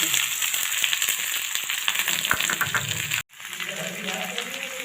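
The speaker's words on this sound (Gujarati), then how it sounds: "ડુંગળીને આપણે એડ કરી દઈશું." Onion goes into hot oil after a spice tempering for a simple paneer curry and fries with a steady, close broadband sizzle. A brief drop near the end cuts the hiss before it resumes.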